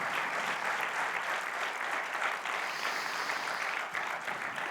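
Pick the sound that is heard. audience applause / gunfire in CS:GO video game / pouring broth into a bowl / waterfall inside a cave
audience applause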